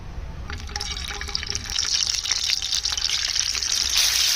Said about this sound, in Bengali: কোরমা করার জন্য তেল দিয়ে দিলাম